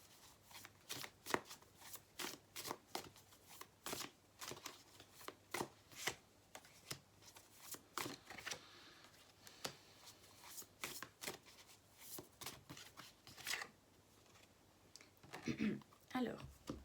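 Tarot cards are shuffled repeatedly in crisp, rhythmic riffling snaps, soft and close, with a quiet voice faintly present near the end.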